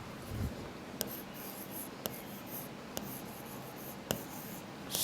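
Chalk or a marker writes on a board during a maths lesson, making faint, steady scratching and rubbing strokes. A few sharp taps are spaced about a second apart, and no one speaks.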